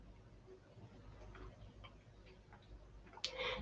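A clock in a quiet room gives faint, regular ticks beneath low room hum, followed near the end by a sudden brighter clatter.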